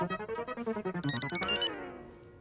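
An electronic phone ringtone plays a quick rhythmic melody of bright beeping notes, rising to a louder shimmering burst before the tones trail off, heard clearly with no voices.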